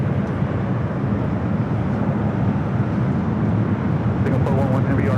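A 30-year-old Boeing 757 airliner at LAX airport, heard as a steady, loud broadband jet roar that holds evenly from start to finish.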